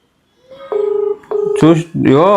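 Electronic phone tones sound in two pulsing bursts, like a call ringing out, before a voice comes in over the line.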